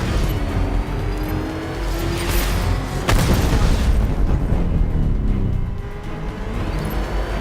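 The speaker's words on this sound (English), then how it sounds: "Rocket launch!" A rocket launch explosion in the Batman: Arkham Knight video game bursts out with a sharp boom about midway, set in a loud, continuous roar of engine and driving noise that runs throughout.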